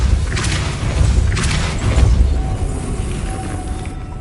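The Depulso force spell cast in Hogwarts Legacy, a few booming thuds and whooshes in quick succession, loud and close with no talk over it.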